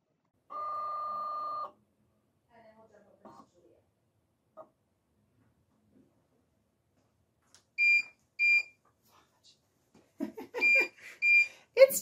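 A Siser Juliet or Romeo vinyl cutter gives a long electronic beep, then after quiet stretches two short paired beeps, followed by a rapid burst of several more beeps amid faint handling noise.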